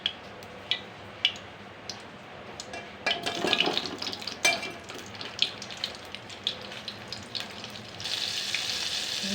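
Paneer frying in oil and butter in a pan: a steady crackling sizzle with scattered sharp pops and ticks, swelling louder midway and turning to a brighter hiss near the end, close and alone without talk.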